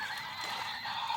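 A horse whinnying in a farm setting alongside cattle and buffalo, a brief strained neigh held for about a second, moderately close.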